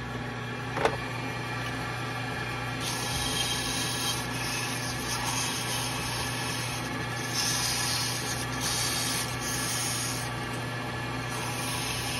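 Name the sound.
sanding a wooden Christmas ornament on the lathe with sandpaper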